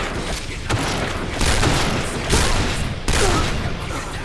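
An AS-50 sniper rifle fired in rapid succession in the shooter game Point Blank, four heavy booming shots spaced under a second apart, loud and close with a rumbling tail after each.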